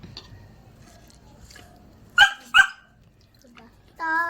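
A dog at home gives two sharp barks close by in quick succession, with faint household noise around them and a brief voice at the end.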